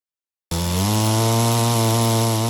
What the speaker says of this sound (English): He's gotten pretty proficient at using this manual Alaskan chainsaw.